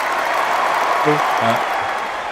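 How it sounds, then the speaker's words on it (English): A crowd applauds at a live tabletop game showcase, a steady wash of clapping and cheering throughout, with a voice speaking briefly over it. "The crowd loves you, James."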